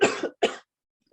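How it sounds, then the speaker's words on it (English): Two quick close coughs, then a third short cough after a brief silence, sharp and loud against a quiet background. "Maybe just cough a lot"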